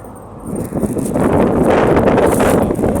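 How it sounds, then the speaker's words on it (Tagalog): Wind rushes across the microphone in strong, rumbling gusts that swell after a quieter start and hold steady, with no voices. "Ang hangin."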